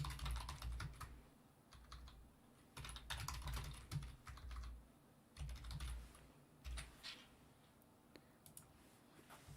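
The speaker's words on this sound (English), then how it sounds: "You can hear me typing." Typing on a computer keyboard, bursts of quick close key clicks in uneven runs separated by short pauses, fairly quiet with no talking.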